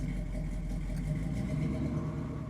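A 1967 Camaro convertible with a 454 V8, Holley 4-barrel carburetor and Weiand intake idles with a steady, deep rumble close by, holding an even low drone with no revving.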